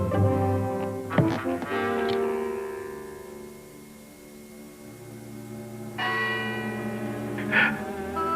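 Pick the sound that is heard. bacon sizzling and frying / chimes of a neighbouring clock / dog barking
chimes of a neighbouring clock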